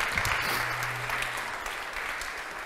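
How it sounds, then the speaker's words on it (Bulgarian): An audience claps after a guest's talk at a Bulgarian science event. The applause is moderate and sustained and tapers slightly toward the end. "Аплодисменти още веднъж."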